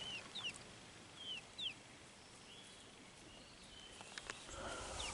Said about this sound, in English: Small chickens.